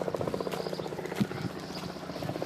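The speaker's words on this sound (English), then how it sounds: "There's a helicopter." Helicopter flying over the ancient stone city of Petra, a steady rhythmic rotor thump at moderate distance, mixed with outdoor ambience and a few brief knocks.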